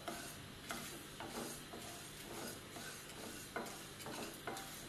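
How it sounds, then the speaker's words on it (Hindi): Cumin seeds roasting in a pan for hotel-style sambar masala, stirred steadily with a spoon: soft scraping strokes recur every half second or so over a faint sizzle, close but quiet, with no talking. "अब हम इसे हिलाते हुए अच्छे से रोस्ट करेंगे।"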